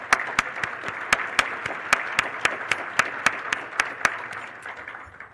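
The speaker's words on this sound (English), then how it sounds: "So another round of applause" A conference audience at a history association annual meeting gives another round of applause, heard as sparse, fairly evenly spaced sharp claps over a soft background wash, fading slightly at the end.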